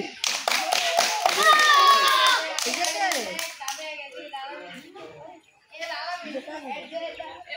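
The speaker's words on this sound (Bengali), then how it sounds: "সামির জন্য সবাই হাততালি।" A group of children bursts into lively, close applause for the winner of a blindfolded room-crossing challenge game. The clapping lasts a few seconds, then children's voices take over.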